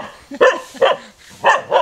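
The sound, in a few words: dog barking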